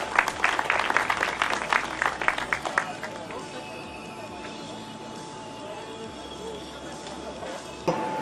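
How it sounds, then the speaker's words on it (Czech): Outdoor audience at a road cycling cup ceremony applauding the leading rider, a burst of dense clapping for about three seconds that fades into crowd murmur, with a voice on a loudspeaker in between. "potlesk ještě jednou pro Jiřího, vedoucího závodníka poháru"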